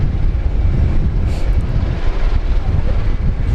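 A Philippine Airlines airliner on short final at Brisbane Airport, heard as a steady, close, low engine roar mixed with wind buffeting on the microphone, continuous across the whole stretch.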